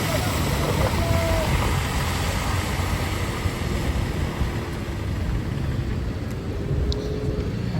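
A camper van grinds slowly along a cold mountain road between Hanle and Leh in Ladakh, its steady low engine drone heard from nearby with no break.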